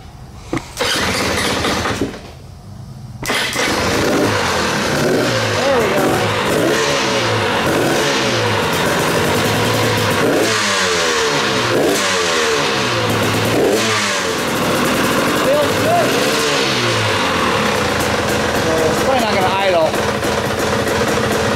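A KTM 300 dirt bike engine, fitted as a complete motor into the frame, fires up after a brief silence and runs loud and close with repeated revving surges and a rough, uneven idle.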